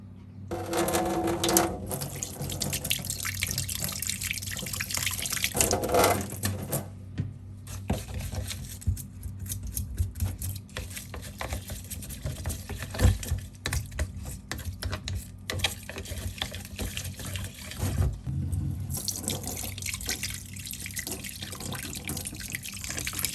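A tap runs steadily into a sink for a long stretch, water splashing and gurgling while a mixer grinder jar is rinsed, with occasional clinks and knocks.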